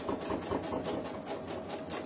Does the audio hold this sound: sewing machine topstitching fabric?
yes